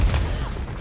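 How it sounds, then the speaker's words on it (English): A grenade explodes in Modern Warfare 3 multiplayer, a loud, low boom that hits at once and fades quickly. "Throw this grenade."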